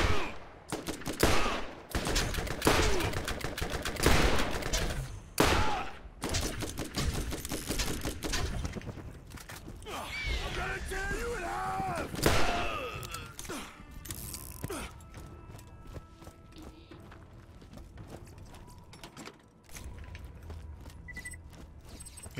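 Pistol gunfire in the video game Borderlands, a rapid run of loud, sharp shots in quick bursts, with clanking mechanical reload and weapon sounds between them and busy game effects, no talking.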